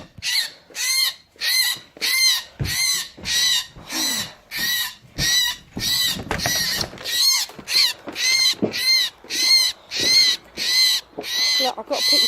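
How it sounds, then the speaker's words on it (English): A rescued bird calls loudly and repeatedly, a steady run of harsh caw-like cries about once per second, close to the microphone, with people talking faintly in the background. "Dave, leave the bird"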